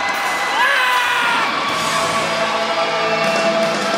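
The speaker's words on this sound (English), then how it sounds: "Some of his buddies cheering him on" Friends of a winning fighter cheer and whoop as a crowd after a unanimous decision at a ROAD FC Young Guns MMA event, loud and sustained shouting with yells rising above throughout.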